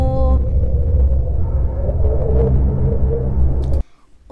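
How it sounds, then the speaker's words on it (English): Eerie space sound attributed to Mars: a dense, continuous low rumble with a droning hum throughout, loud and steady, then cutting abruptly to near quiet just before the end. "Oh, Mars sounds creepy as hell."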